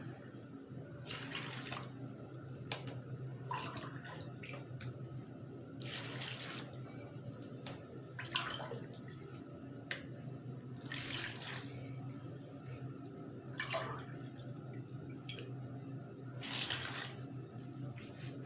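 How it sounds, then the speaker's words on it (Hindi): Water is poured in several pulses into a cooking pot of spices for chicken shami kabab, about four cups, with splashing gushes recurring every few seconds over a low steady background, no clear talking. "अब मैं इसमें 4 कप पानी डालूँगी"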